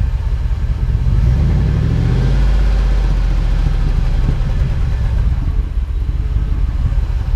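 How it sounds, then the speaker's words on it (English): A car engine is revved during a complete fuel system cleaning, giving a loud, close, continuous rumble that climbs in pitch as the throttle opens and then holds steady. "Rev it up some."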